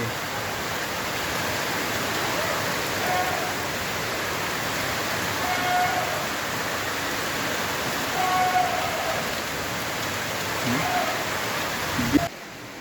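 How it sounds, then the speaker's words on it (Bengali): Steady, dense rain noise fills the scene, a constant broadband hiss with faint voices under it, ending in a brief knock. "বৃষ্টি হইতেছে বাইরে এই যে এই যে বৃষ্টি হইতেছে কেমন বৃষ্টির শব্দ জোরে এসে গেছে"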